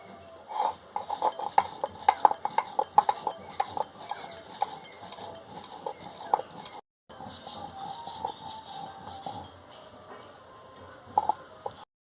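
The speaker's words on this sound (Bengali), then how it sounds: "জিরে আর আদাটা একসঙ্গে বেটে নেব" Cumin and ginger being ground together on a grinding stone, a steady run of rough scraping and knocking strokes with a short pause midway, close and fairly loud, no talking.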